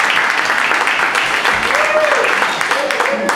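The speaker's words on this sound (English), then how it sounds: "Let's give them a big round of applause." An audience at a realtors' gathering breaks into loud, sustained applause, a dense wash of clapping that fills the room with some cheering voices over it.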